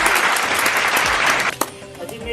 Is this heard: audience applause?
yes